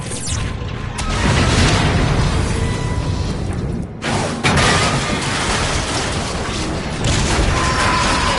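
Heavy fire and explosions in the video game Transformers: Fall of Cybertron, a dense continuous barrage of loud booms, crashes and rattling gunfire with a short dip before another blast, close and overwhelming throughout.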